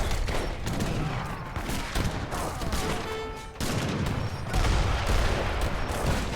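Mortars firing in a strategy video game, a dense barrage of booms and rattling blasts that swells and surges loudly near the end, no voices.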